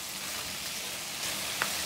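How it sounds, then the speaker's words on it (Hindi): Onion sizzles and fries in a pan while bhindi pyaaz is being cooked, a steady, close crackling hiss broken near the end by a brief sharper spatter or clink. "थोड़ा सा ये फ्राई होगी और इसका कलर चेंज हो जाएगा"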